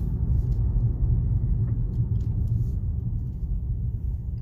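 A 2015 Cadillac CTS-Vsport sedan with a twin-turbo 3.6-liter V6 is heard from inside while driving, giving a steady low rumble of engine and road noise throughout.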